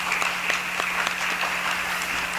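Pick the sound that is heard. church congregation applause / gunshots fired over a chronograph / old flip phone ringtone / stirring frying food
church congregation applause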